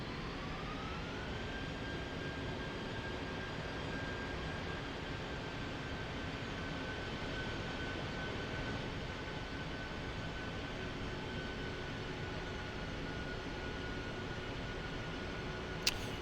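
A-10C II jet taxiing in a flight-simulator game, a continuous, loud engine drone and whine that holds steady for about sixteen seconds with a pitch that rises early then stays level, no talking.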